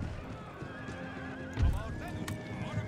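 Light cavalry horses in the Empire: Total War battle game, with hooves clip-clopping and horses whinnying amid a busy battlefield din, one thud standing out, while someone talks over it.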